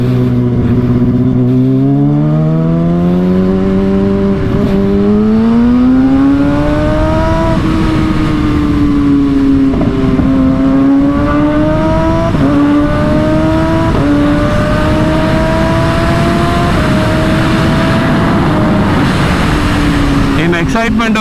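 A Kawasaki ZX-6R motorcycle engine runs loud and close while riding fast, its pitch climbing steadily through the gears, with short dips at each shift and a rider's voice talking over it.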